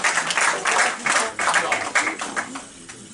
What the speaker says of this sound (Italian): Vorrei fare un applauso a parte che ci manca.